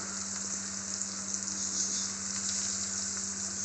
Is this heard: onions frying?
yes